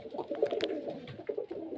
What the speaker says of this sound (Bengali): এই এক পেয়ার দুবাজ পায়রা দেখতে আসেন